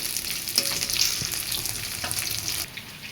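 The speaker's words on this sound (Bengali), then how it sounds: "পেঁয়াজগুলো আমি একটু ভেজে নেবো লালচে করে" Onions frying in a pan until reddish brown, a steady bright sizzle with a few stirring scrapes and clicks of the utensil against the pan, close and continuous.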